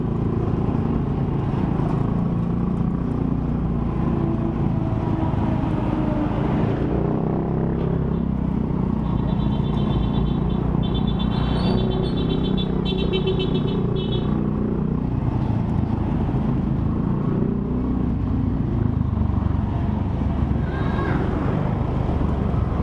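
Tricycle passing on a road beside an under-construction site, a steady close motor drone with wind rumble that swells and fades over about twenty seconds, with a brief high whine in the middle.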